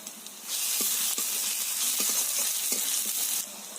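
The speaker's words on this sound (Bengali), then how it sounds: "রসুন দিয়ে খুব ভালো করে ভাজা হয়ে গেছে এবার এতে দিয়ে দেব ছোট সাইজের একটা টমেটো কুচি" Chopped small tomato drops into garlic paste frying in a pan, setting off a loud, sustained sizzle that swells abruptly and then settles back to a quieter hiss near the end.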